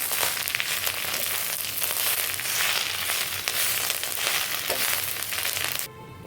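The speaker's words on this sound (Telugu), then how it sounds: "ఇదిగండి కరివేపాకు ఇలాగే వేగుతుంది." Curry leaves fry in hot oil with a dense, loud, steady sizzle and crackle that runs for several seconds, then cuts off abruptly near the end; no talking.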